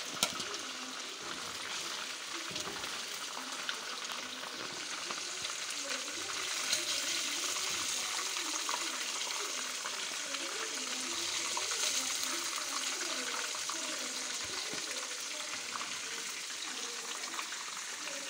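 Chicken pieces frying in oil for a black pepper chicken karahi give a continuous loud sizzling hiss dotted with small crackles that holds steady throughout.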